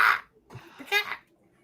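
A voice imitates a pigeon with a couple of rough, croaky squawks, close and fairly loud, the calls coming in two short bursts separated by a brief pause.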